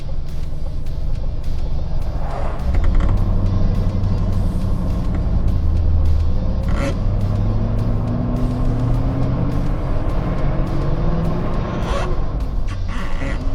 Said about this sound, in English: it's now came down off a high idle